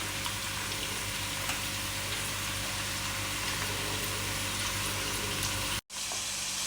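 Onions and okra stir-frying together in a pan, a steady broad sizzle and crackle that runs unbroken at moderate loudness, with a brief sharp cut-out near the end.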